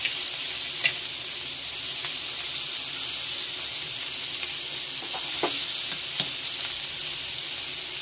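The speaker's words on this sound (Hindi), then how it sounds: "मस्तपैकी तवा घेतलेला आहे, तेल तापलाय, मस्तपैकी आता फ्राय करूया" Fish fries in hot oil on a tava, with a constant dense hiss of sizzling and a few faint clicks and taps, heard close and without any talking.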